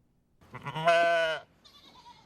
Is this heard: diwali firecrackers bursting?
no